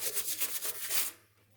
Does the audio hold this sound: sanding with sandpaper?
yes